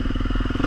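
A stalling motorcycle engine is given throttle, a loud close burst of rapid, pulsing exhaust thumps with rattly clatter, rising slightly at the very end.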